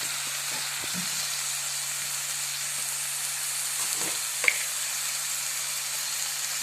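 Spice powders sizzling in a pan of sautéed ingredients for an Indian side dish, a faint steady frying hiss with soft stirring scrapes and one brief clink, close and low in level.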